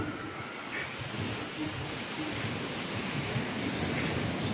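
Sea waves wash steadily onto a private beach at a seaside resort in Xiaomeisha, Shenzhen, a soft continuous surf roar with some wind noise and no clear break between waves.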